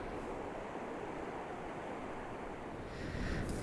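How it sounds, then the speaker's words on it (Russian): Strong wind roars steadily into a microphone tucked inside a large coat collar outdoors near bushes, a loud continuous buffeting rumble with a brief gust near the end and no voices. "Ветер просто сногсшибательный."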